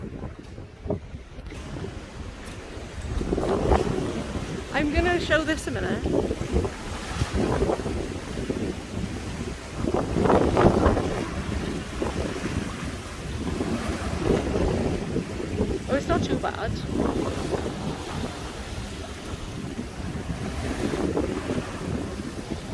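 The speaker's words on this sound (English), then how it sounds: "Do you want to see the waves?" Gusty wind buffets the microphone over a steady wash of ocean surf, heard from the P&O Ventura cruise ship, with a person talking briefly now and then.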